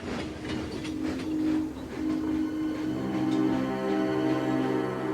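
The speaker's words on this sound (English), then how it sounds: "Thomas shunted all the trucks into one long line, and he set off for the bakery" Steam engine train pulling a long line of trucks, a steady close rumble with rhythmic clickety-clack of wheels and a sustained mechanical hum, no voices.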